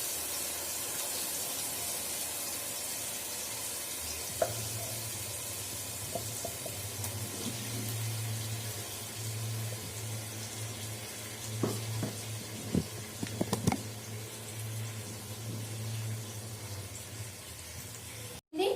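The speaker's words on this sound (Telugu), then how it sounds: "మనం ఆనియన్ పేస్ట్ని ఈ విధంగా ఫ్రై చేసుకోవాలండి." Onion paste frying in oil, a faint continuous sizzle with scattered small pops and spatula taps over a long stretch.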